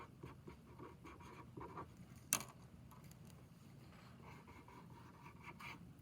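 Pen or pencil writes out the steps of a math problem, a quiet close scratching in short irregular strokes with one sharper tap partway through, no talking.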